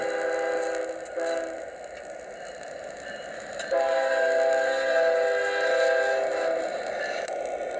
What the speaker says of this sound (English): the horn button on the side. And it'll run a sequence as the train approaches the crossing.